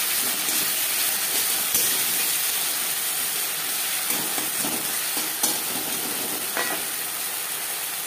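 Onions fry in mutton fat in a pan for a potato dum, giving a loud, steady close sizzle with a few faint stirring scrapes and no talking.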